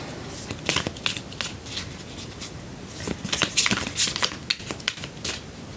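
Tarot cards being shuffled in irregular bursts of crisp riffling and soft slaps, close up, with quiet pauses between and no talking.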